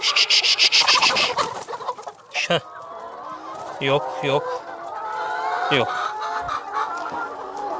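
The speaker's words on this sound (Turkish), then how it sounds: "Arkada tavuklar var ama." Chickens cluck in bursts near the microphone, with a rooster-like call, while a person speaks briefly over them.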